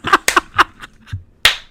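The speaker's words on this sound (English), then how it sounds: "The one guy slow claps in the back." One person slowly clapping alone in a room, several sharp, spaced-out slaps at an uneven, deliberate pace, close and fairly loud.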